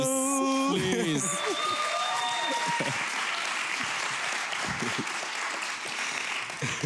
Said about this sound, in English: Let's get the real applause here, please.